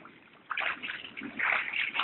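Splashing through a knee-deep puddle flooding a street, close sloshing surges of water as legs wade through it, starting after a quiet moment and repeating in uneven pushes.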